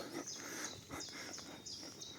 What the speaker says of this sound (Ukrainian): Пташки гарно співають.